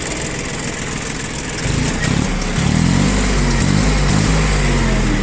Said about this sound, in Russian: Работает трактор достаточно хорошо.